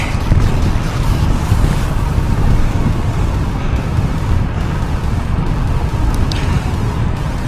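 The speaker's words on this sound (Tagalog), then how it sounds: "Lakas ang hangin." Strong wind roars steadily across the microphone during a road bike ride, a constant low buffeting rumble with no voices.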